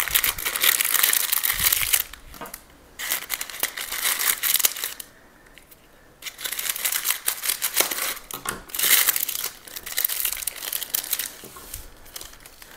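Scissors used for sewing snip and crinkle through paper in close, irregular bursts of crisp cutting and rustling, with short pauses between strokes.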